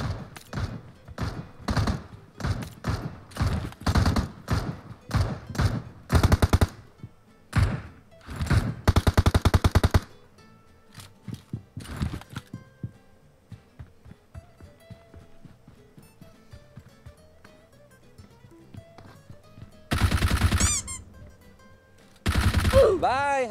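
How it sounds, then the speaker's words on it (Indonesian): Suppressed gunfire in a mobile shooter game, with a bot as the target: rapid bursts of muffled shots spread over the first ten seconds, a quieter stretch after that, then two more loud bursts near the end. "Nah dia nembakin bot tuh."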